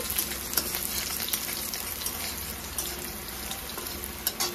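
Garlic and dried red chilli fry in hot oil in a home kitchen, a continuous crackling sizzle with scattered pops and a few sharper clicks of utensils, close and steady with no talking.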